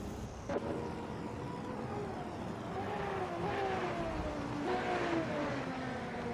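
Engines of racing cars in a video game drone and whine at high revs, pitch rising and falling steadily as they push on, continuous and fairly loud with no talk over them.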